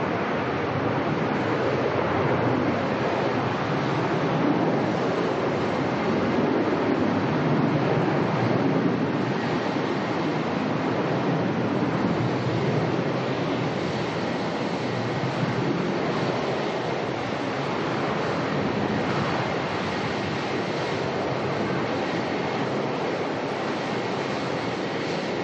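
Airliner on a flight to Sydney from Melbourne Airport makes a long, steady broadband jet roar of even, moderate loudness that holds for about twenty-five seconds, with no voices.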